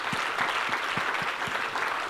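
An audience at a keynote talk applauds steadily, with dense, even clapping throughout and no voices over it.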